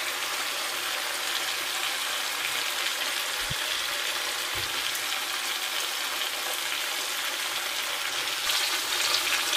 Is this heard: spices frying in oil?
yes